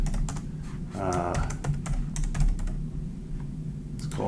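A name being typed on a computer keyboard, with steady rapid keystrokes clicking close by for several seconds and a brief voice murmuring under them.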